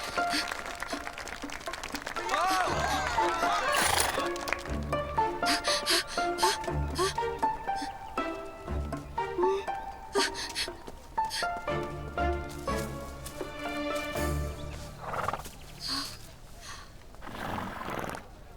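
Horses neigh with loud whinnies and snorts, while hooves clip-clop nearby, the sounds busy and layered amid a background score and occasional voices.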